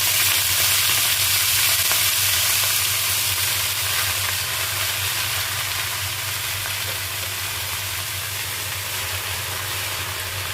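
Leafy greens fry in a pan with lightly browned onion and garlic, a constant dense sizzle and hiss over a low steady hum, unbroken and close for the whole stretch.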